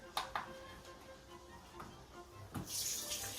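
Water pours steadily into a container, about 350 ml of filtered water for sourdough bread dough, faint and close, with a few small clinks, then a brighter splashing rush at the end.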